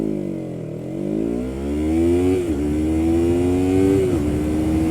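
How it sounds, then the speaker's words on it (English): A Yamaha MT-03 motorcycle accelerates hard, its engine note climbing steadily through the gears with two brief dips at shifts, loud and close with no talk. "So this Yamaha MT-03 is definitely a fast motorcycle."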